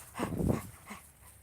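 A whippet named Fairy gives a short, soft whimpering whine on a lakeside park walk, one faint nasal cry and a quieter follow-up with no talking.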